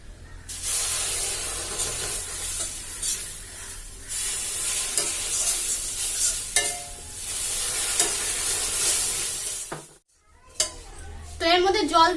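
Water poured into gram flour roasting in ghee sets off a loud, spraying sizzle that goes on for several seconds, then drops to clattering stirring and scraping in the pan, with no talking.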